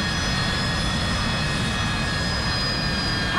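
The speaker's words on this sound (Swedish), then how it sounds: "Det där är ett skadat flygplan." Jet engine of an AV-8B Harrier II landing in the DCS World flight simulator game, the aircraft damaged, a steady loud roar with a high whine held evenly throughout, no voices.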